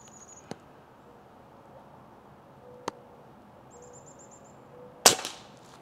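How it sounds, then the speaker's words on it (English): A Crosman Drifter air gun fires at a 4-inch target outdoors: sharp, isolated cracks spaced a few seconds apart, with the last shot loudest and ringing briefly over faint background quiet. "We'll do 5 shots, I guess. 5 shots on that 4-inch target."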